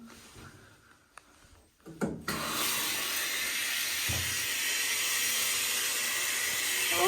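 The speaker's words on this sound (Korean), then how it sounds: "뜨거운 물 바로 나온다" Hot water from a small hotel shower bursts on after a couple of seconds of quieter handling sounds, then settles into a loud, steady hissing spray close by.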